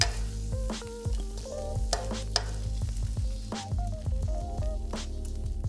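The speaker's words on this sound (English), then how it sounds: "After stir frying the filling for about 30 to 40 seconds," Dim sum filling for ham sui gok is stir-fried in a wok and finished with sesame oil, giving a steady close sizzle with repeated scraping and stirring clanks of the spatula throughout.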